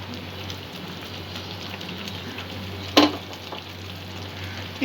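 Prawn pulao sizzles steadily in a pan as fried onions go in, a continuous frying hiss with one sharp, loud clatter partway through.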